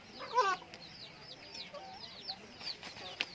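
Several chickens sick with fowlpox cluck softly and intermittently nearby, with one louder burst of clucking near the start.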